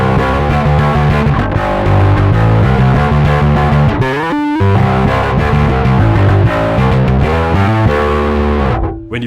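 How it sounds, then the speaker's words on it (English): A thick, fuzzy distorted bass through a KHDK Abyss bass distortion pedal plays sustained notes and riffs, loud and continuous, with a brief gap midway and no voices. "today we're checking the KHDK Abyss bass distortion build"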